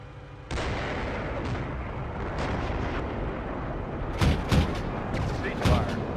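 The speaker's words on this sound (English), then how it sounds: "Ah. tank fire." Tank cannon fire in a video game: a sudden loud blast opens a dense rumbling barrage, with several sharper booming reports near the end, close and heavy throughout.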